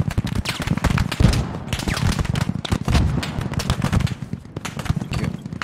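Dense, sustained automatic gunfire from a machine gun in the military shooter game Squad, with rapid overlapping bursts filling the whole stretch at close range.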